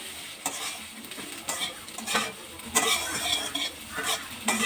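Pulao rice frying with potatoes while being stirred in a pan for a fish-head muri ghonto, giving repeated rustling scrapes and swishes of the spatula over a crackling sizzle that rises and falls, close and fairly loud, no talking.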